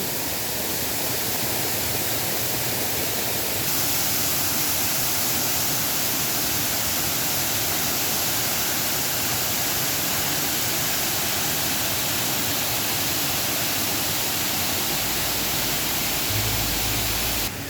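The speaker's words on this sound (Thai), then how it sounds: "ส่วนบริเวณนี้จะเป็นน้ำตกนะคะ" An artificial waterfall at Wat Sala Loi temple in Nakhon Ratchasima, its water falling in a loud, constant broadband rush that stays steady throughout without pauses or voices, with a brief low thump near the end.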